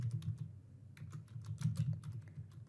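Close, quick typing on a computer keyboard as a workflow name is entered in a web app: a dense run of crisp key clicks with short pauses and no voices.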